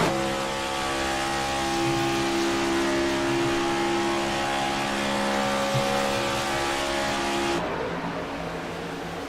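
Race cars from a racing game howl around the oval at Atlanta, a dense sustained engine roar with steady tones holding for several seconds before the pitch drops and thins.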